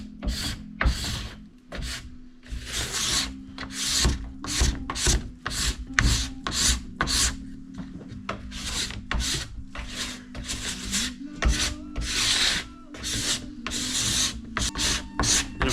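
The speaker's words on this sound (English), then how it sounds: "just gotta get some wax on this base too" Wax is rubbed back and forth onto the base of a split snowboard in a shop, a rapid series of dry, scraping strokes in an uneven rhythm, close up and with no talking.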